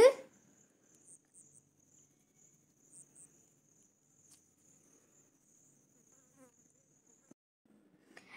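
Rhinoceros beetles caught in a coconut pest trap give off a faint, thin insect buzz that runs steadily in the background, with a few soft knocks and rustles and a louder thump at the start.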